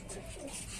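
A Rajshahi Giribaz pigeon, just released and still nursing a sore wing, gives a short, soft coo close by against a steady background hum, with no voices over it.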